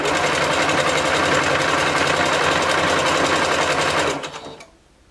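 Sewing machine running fast and steady while stitching a bodysuit seam with a lengthened stitch, a loud continuous whirring chatter that winds down and stops near the end.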